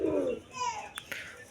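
Tournament pigeons cooing at close range, a single throaty coo followed by softer rising calls and a couple of short clicks, brief and alone with no talking.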